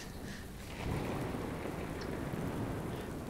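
Heavy rain pours steadily in the shooter game Enlisted as a dense, continuous wash with low rumbling underneath.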